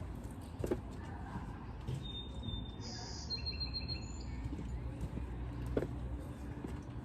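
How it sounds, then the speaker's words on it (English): Faint birds chirp and trill in short, high calls over a steady outdoor background hum, with a few scattered clicks. "I love listening to the birds."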